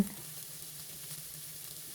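Mushrooms stir-frying in a hot pan, a steady close sizzle and crackle of oil that carries on evenly, with no talking.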